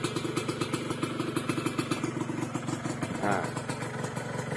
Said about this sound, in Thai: รอบเดินเบา นิ่งๆเลย